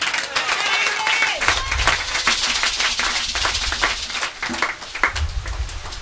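A church congregation breaks into sustained applause and cheering, dense clapping from a crowd filling the space for several seconds.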